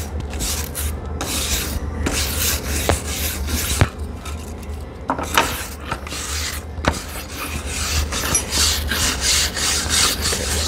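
Brush scrubbing charred wood for shou sugi ban, rough, rasping strokes close up, in uneven bursts with sharp scrapes and brief pauses.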